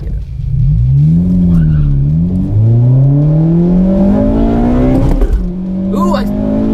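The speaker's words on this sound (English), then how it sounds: "I felt VTEC kick in." A 2017 Honda Civic Hatchback Sport launches hard down a drag strip, its engine climbing steeply through the revs with a rising pitch as VTEC engages, a brief shift break, then another strong pull, loud and close with voices talking over it.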